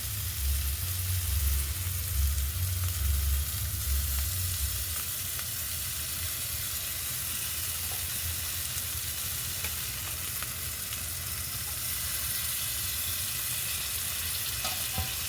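Food frying loudly in a pan as sauce is poured in and stirred, a dense continuous sizzle with low stirring thumps near the start, close and steady throughout.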